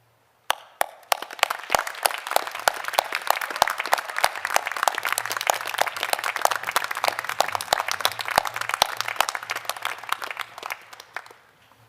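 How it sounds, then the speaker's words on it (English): A graduation ceremony audience in Hobart breaks into applause. Many hands clap together, building quickly into a dense, sustained crowd ovation that continues for about ten seconds before fading out, heard from a slight distance with no talk. "express your gratitude to those who have supported you with a round of applause"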